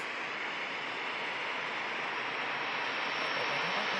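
A VistaJet Bombardier Challenger 350 business jet flying in from Tivat gives off a steady, broad engine roar that holds at a constant loud level throughout.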